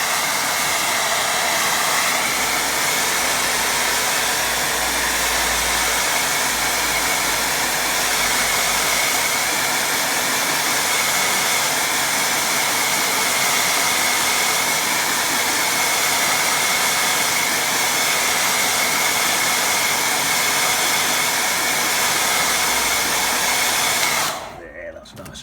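A hair dryer blows over wet watercolour paint on paper, a loud, steady broadband rush that holds unbroken for the whole stretch before switching off right at the end.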